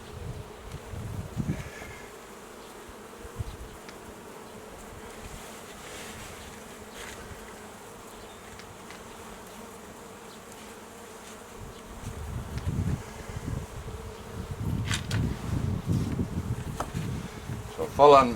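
Honeybees buzz around an open hive during a spring hive inspection, a steady close swarm drone that swells louder toward the end, with brief handling knocks.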